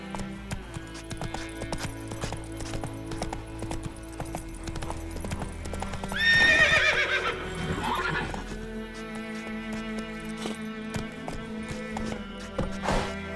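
A horse gallops in The Witcher 3 with steady, close hoofbeats, broken by a loud whinny midway before the rhythmic clip-clop carries on.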